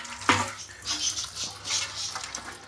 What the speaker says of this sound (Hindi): इसको अच्छी तरह पानी डालें ताकि इसमें जो इसका ब्लड है वो अच्छी तरह निकल जाए।